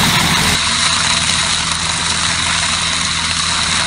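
The engine of a hazelnut harvesting machine runs steadily and loudly up close, a constant heavy drone with a bright hiss on top, and no voices.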